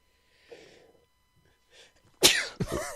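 A quiet breathy intake, then one loud abrupt sneeze close by, followed by a strained vocal sound.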